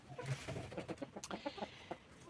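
Hens cluck softly inside a chicken coop in a short run of close, uneven calls and low murmurs, with no talk.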